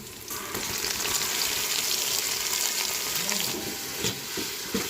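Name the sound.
tomatoes added to a frying pan, sizzling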